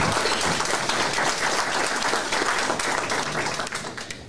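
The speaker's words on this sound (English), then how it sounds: "I think that deserves a round of applause." An audience at a legacy event applauds scholarship recipients, producing a full, steady round of clapping that tapers slightly toward the end.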